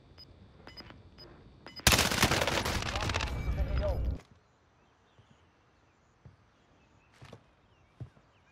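Gunfire in Call of Duty Warzone, Season 5 Modern Warfare: a dense, loud burst of rapid automatic shots lasting about two seconds, then quiet with a few scattered distant pops and steps.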